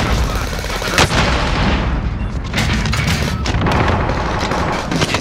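A stun grenade goes off in the online shooter Call of Duty Warzone amid loud, continuous battle noise, with a sharp blast near the start and dense booming gunfire throughout.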